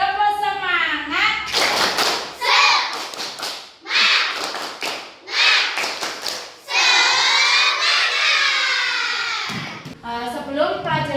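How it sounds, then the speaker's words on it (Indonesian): A classroom of children performs the tepuk semangat clapping routine, bursts of rhythmic group claps and taps mixed with loud shouted chanting and a teacher's voice over the top. "Yuk kita tepuk semangat sama-sama, nggih, seperti biasanya"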